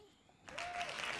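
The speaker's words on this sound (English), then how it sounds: "Hand claps." A short burst of hand claps breaks in partway through, loud and dense like brief applause after a quiet start.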